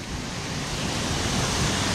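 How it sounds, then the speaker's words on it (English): Waterfall near Ramsbottom on a river with big drops, a steady broadband rushing roar of falling water that fills the whole clip at an even level, close by, with no voices. "Waterfall 1, just there, where the finger is."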